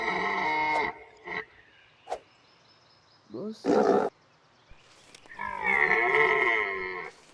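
Deer in a bear simulator video game give several long, moaning, lowing calls, moderately loud, with short grunts and a brief rustling burst between them.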